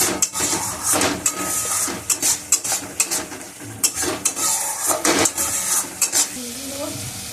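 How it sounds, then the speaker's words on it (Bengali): A spoon scrapes and stirs a spice paste of cumin and turmeric powder with water as it sautés in a pan, giving a loud, busy sizzle broken by repeated metallic scrapes and clinks. "কষা হচ্ছে মশলাটা"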